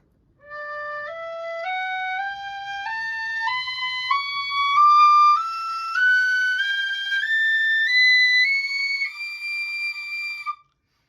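A €5.50 tin whistle climbs a scale note by note from low D through high D to double high D, each pure tone held briefly in an even, stepwise rise, solo and close.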